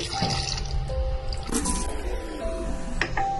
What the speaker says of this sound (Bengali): তো ফার্স্টে আগে মাছগুলোকে ধুয়ে নিচ্ছি।